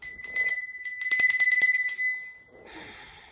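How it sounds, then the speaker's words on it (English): A small hand bell rings with bright metallic tones, a quick flurry of strikes followed by a second burst of rapid ringing, then fading to a faint rustle. "Where's that bell?"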